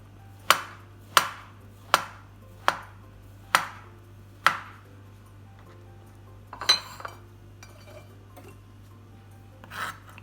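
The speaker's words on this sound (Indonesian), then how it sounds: "Yang mau saya tumis adalah setengah papan tempe. Potong-potong seperti ini." Half a slab of tempeh cut into pieces on a cutting board, six sharp evenly spaced knife chops close up, followed by a couple of softer clinks and scrapes.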